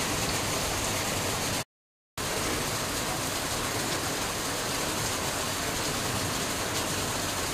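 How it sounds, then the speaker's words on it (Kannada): Heavy rain pours steadily as a dense, constant hiss, loud and close, with a faint engine hum underneath and a brief drop-out partway through; no one speaks. "ನೋಡಿ, ತುಂಬ ಜೋರಾಗಿ ಮಳೆ ಬರ್ತಾ ಇದೆ."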